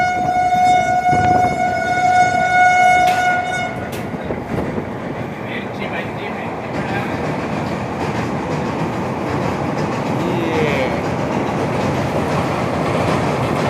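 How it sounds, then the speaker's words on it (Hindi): A train on a river bridge meets an oncoming Vande Bharat Express, seen from a passing Tamil Nadu Sampark Kranti superfast; a long horn blast opens, then a steady loud rumble and rattle of wheels on the bridge continues throughout. "सामने से कोई तो ट्रेन आ रही है, इसकी क्रॉसिंग अपने को मिलने वाली है"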